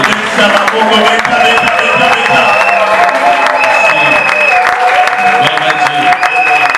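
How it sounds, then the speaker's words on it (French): Congregation at a Christian conference applauds and cheers, a loud, continuous wash of clapping and crowd voices with some tonal sounds running through it. "Est-ce que tu peux donner des acclamations?"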